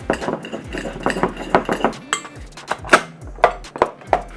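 Vegetables tossed with a tablespoon of canola oil and lemongrass puree in a bowl, giving a steady run of light clinks and scrapes from a utensil against the bowl, growing sharper and more spaced toward the end.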